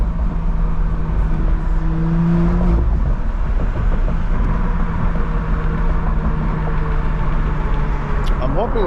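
A 900 hp BMW E92 drones steadily from inside the cabin while driving, a loud continuous engine and road rumble with shifting tones as it pulls, and a person talks over it in places.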